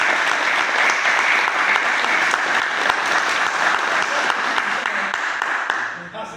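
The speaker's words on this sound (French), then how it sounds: "Très bien, applaudissez pour eux." A crowd at a martial arts grading event applauds loudly and steadily for the practitioners, dense continuous clapping that fades at the end as a voice briefly comes in.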